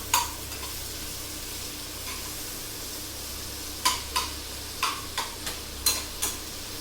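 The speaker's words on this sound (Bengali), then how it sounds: "দেখো পেঁয়াজটা আমি ভেজে দিচ্ছি" Onion frying in oil in a pan for a home-cooked prawn bharta, a steady soft sizzle throughout, then a quick run of sharp spoon-stirring clicks and scrapes near the end, close and without voices.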